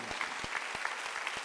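A church congregation applauds during a Sunday worship service, a soft, fairly distant patter of clapping with a few sharper individual claps standing out, lasting about a second and a half.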